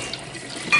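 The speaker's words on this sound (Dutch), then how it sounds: "dus dit is heet water namelijk" Hot water running from a tap, a soft steady splashing stream, short and fairly quiet.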